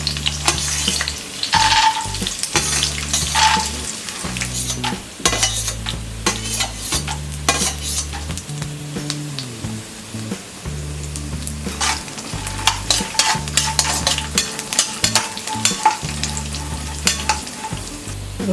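Green chilies and peanuts fry in hot oil for spicy masala makhana, a loud, steady sizzle with frequent spoon scrapes and clatter against the pan, nearby and without speech.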